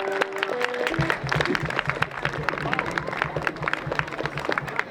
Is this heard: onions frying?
no